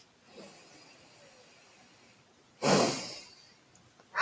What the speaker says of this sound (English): it's a double inhale through the nose and a long, slow exhale out the mouth